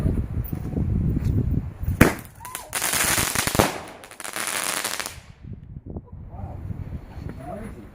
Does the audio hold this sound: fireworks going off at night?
yes